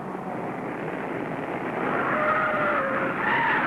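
A 1950s stock car skids through the south turn from road onto beach in a beach race, tires scrubbing in a continuous broad roar with thin squeal tones rising toward the end, loud and steady with no voices.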